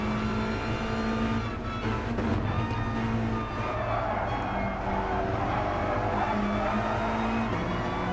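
Touring race cars including a Renault Megane lapping a circuit during a race, a continuous dense roar of engines with shifting revs and overlapping cars, steady and fairly loud throughout.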